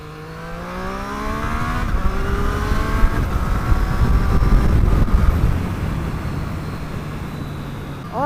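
A 2020 Triumph Street Triple RS motorcycle pulls away on the road, its engine note rising for a couple of seconds before heavy rushing wind noise takes over and masks it.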